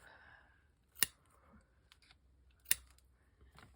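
Scissors snipping something off, two sharp distinct cuts about a second and a half apart, close and crisp against a quiet room.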